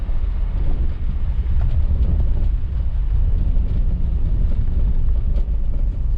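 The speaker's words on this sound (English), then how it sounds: "it's windy enough now, but it just blows it to one side" Steady, loud wind buffeting the microphone, a continuous low rumble with gusty fluctuations and no voices.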